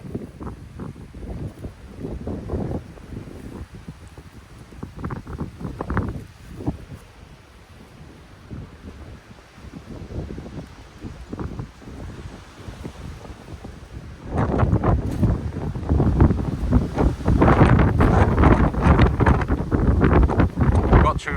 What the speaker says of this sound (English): The wind might have shifted a little bit now.